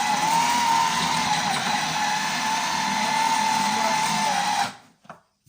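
An old, somewhat damaged electric blender whirs loudly and steadily with a high motor whine, then shuts off and briefly rattles to a stop.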